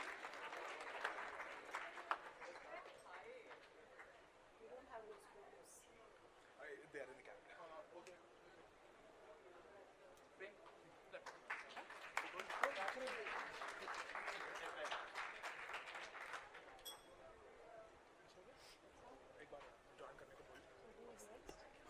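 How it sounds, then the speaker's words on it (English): An audience applauds at a university orientation-day stage event, sustained clapping that swells midway and stays moderately loud. "Huge round of applause for him as well."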